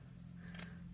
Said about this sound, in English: I'm going to angle the scissors and just cut as close